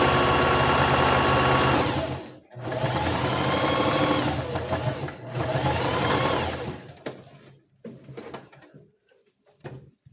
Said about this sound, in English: you're going to sew 1/2 inch like this all the way to the end